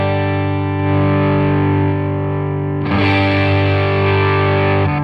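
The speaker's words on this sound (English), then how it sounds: "As soon as I turned up that tone, I got more gain." Electric guitar through an overdrive pedal with the tone knob turned up, a sustained distorted chord that is re-struck brighter and grittier partway through, loud and close with no voices.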